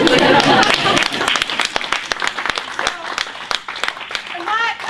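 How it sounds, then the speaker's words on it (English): Audience applause at a civil-rights event, scattered claps under a speaker's voice, clearer toward the end. "I thought I was gonna get a little bit of an applause on that one."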